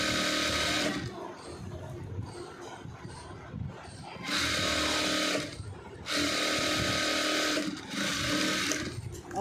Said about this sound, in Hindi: पहले हम एक साइड से रफ सिलाई देंगे